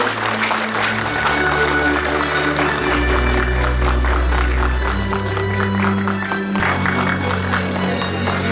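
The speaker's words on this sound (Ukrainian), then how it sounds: "Ваші оплески!" An audience applauds at the official opening ceremony of the Boryspil academic lyceum, sustained, fairly loud clapping from a crowd over a low hall hum and shifting background tones.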